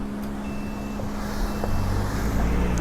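Steady rumble of road traffic close by, a vehicle engine droning continuously with a thin, faint tone riding above it and no voices.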